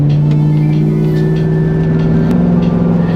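Car driving on the Arkansas Dragon, Highway 123 south of Mount Judea, its engine humming at a steady low pitch with road noise, loud and continuous, with no speech.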